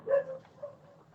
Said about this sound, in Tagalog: Nag-away yung aso namin, putik yan.